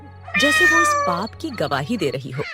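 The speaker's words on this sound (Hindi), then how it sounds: "बिल्ली म्याऊं करके गुजर जाती है," A black cat in the dark near a village temple gives one loud, drawn-out meow up close, and a narrator's voice follows right after it.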